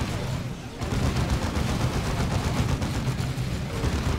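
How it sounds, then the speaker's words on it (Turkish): Bombs and gunfire in the strategy game Warhammer 40,000: Dawn of War II, a steady dense barrage of shots and blasts that starts a little quieter and then swells into a loud, continuous fusillade. "Oha etrafı bomba saçtı yine."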